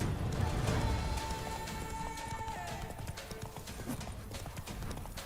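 Roach the horse gallops in The Witcher 3: Wild Hunt, hooves clip-clopping in a rapid, steady rhythm close by over outdoor ambience, with a faint tonal whine and a brief voice mixed in.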